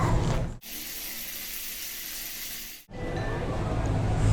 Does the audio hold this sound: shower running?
yes